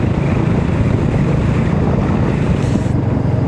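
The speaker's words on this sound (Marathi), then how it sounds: "असं गार वारं लगेच जॅकेटच्या आत घुसलं." Cold wind roars past a rider on a motorcycle trip along the Mumbai Goa highway, a loud, constant low buffeting rush against the microphone with no let-up and no voices.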